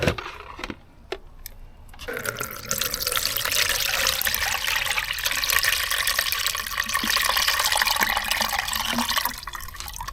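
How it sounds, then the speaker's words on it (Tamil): Homemade bio-enzyme liquid is strained after mixing. It begins with a few brief drips, then becomes a steady, loud pouring trickle that lasts for most of the clip. "நல்லா கலக்கினதுக்கப்புறமா இதை நம்ம இப்படி வடிகட்டிக்கலாம்"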